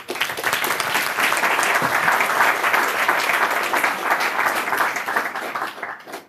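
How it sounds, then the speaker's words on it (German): A large audience gives a strong, sustained round of applause for two hosts at the closing event of Jugend hackt in Ulm, thick clapping that holds steady before tapering off at the end. "bitte einen großen Applaus für die beiden"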